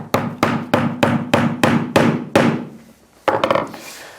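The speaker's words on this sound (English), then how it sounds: "Then our expensive hammer." An expensive £45 hammer knocks a round cable clip home with eight firm, evenly timed strikes, each with a short ringing tail, then a pause and a final rattling double hit; close-up and loud, no voices.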